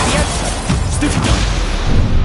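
Stunning spell cast in the Hogwarts Legacy video game, a loud burst of crackling magical impact with whooshing energy, dense and continuous over about two seconds amid combat effects.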